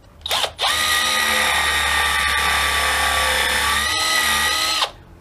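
A power drill countersinks screw holes in wood for hammer fittings, running as one loud, steady whine for nearly five seconds after a brief opening burst, close up and with no talk.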